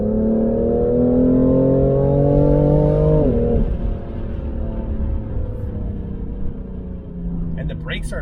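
A 2018 BMW M3 Competition engine climbs steadily in pitch under acceleration, then drops sharply on a gear shift and settles into a lower, smooth drone, loud and close.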